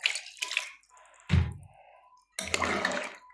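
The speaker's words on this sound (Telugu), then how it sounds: "నీళ్ళు పోస్తాను" Water is poured into a cooking pot holding chicken, broad beans and potatoes as a curry is made, in splashy bursts separated by short pauses, close and moderately loud.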